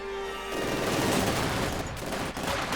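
Dense gunfire from the Company of Heroes 2 strategy game erupts in continuous overlapping bursts, with machine-gun rattle and rifle shots packed into a loud, unbroken fusillade from start to finish.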